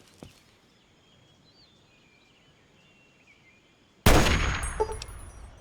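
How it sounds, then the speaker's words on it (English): A single sharp sniper rifle shot cracks out in a sniper game, loud and sudden after a long stretch of quiet ambience, ringing on with a metallic tail. "the target gets spooked by the sound of the gunshot and manages to escape"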